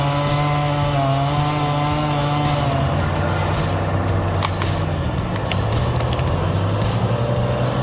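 Chainsaw felling tall trees in a forest, a loud steady motor whine with sustained harmonic drone running continuously throughout, close and unbroken.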